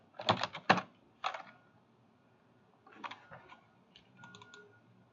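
A computer keyboard and mouse click while data is copied into a new Excel file: quick bursts of close keystrokes and clicks, a pause, then lighter scattered taps toward the end.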